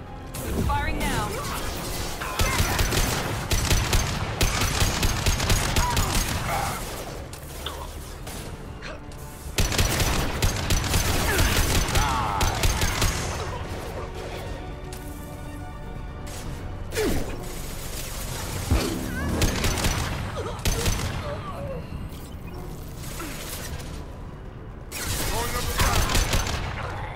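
Gunfire and crashing impacts in the shooter Mass Effect Legendary Edition, with bursts of rapid shots at several points between quieter stretches, loud and close amid game sound effects and voices.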